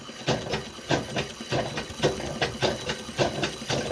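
Sewing machine balance wheel turned quickly by hand to wind thread onto a bobbin, giving a rapid, regular ticking and whirring rhythm at close range.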